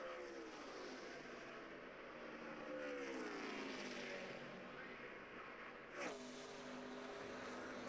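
Jimmie Johnson's stock car on the final lap of the Brickyard 400 at Indianapolis, 2012, passes as a loud sustained engine roar whose pitch rises and falls, with a brief sharp burst near the end over constant crowd and track noise.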